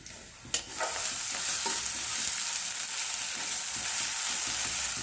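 Onion and ginger-garlic paste frying in a pan for a fish head and banana flower curry: an initial clatter of utensils, then a dense, even sizzle with soft stirring underneath, heard close and without speech.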